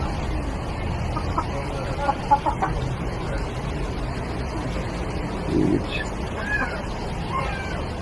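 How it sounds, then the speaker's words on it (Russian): Chickens cluck softly now and then in an open outdoor space, with a steady background hum and a few brief, higher calls scattered throughout. "Такие вот, друзья, куры"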